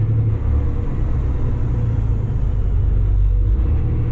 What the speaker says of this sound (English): Same as downshifts. You hear that? That's how standards operate.